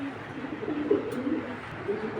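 Pigeons in a loft give low, rolling coos close by, a steady soft murmur with a few fuller calls and no talking.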